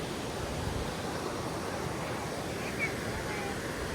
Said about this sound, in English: this is where the waterfall comes from